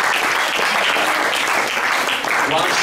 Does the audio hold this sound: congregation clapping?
yes